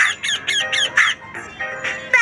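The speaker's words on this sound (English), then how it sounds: "Look what is flying in the sky. Parrot, parrot, up in the sky." A parrot squawks repeatedly, about eight harsh, loud calls in a quick uneven series, close by and with no talking.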